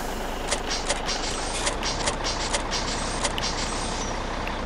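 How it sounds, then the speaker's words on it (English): A stuck truck's engine strains steadily in Farming Simulator 17, a constant droning rumble with a series of sharp clanks and knocks spaced through it. "I've gotten my truck stuck."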